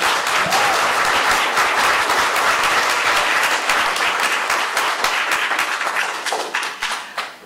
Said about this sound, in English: I appreciate the enthusiasm, but we'd like to keep the applause at the end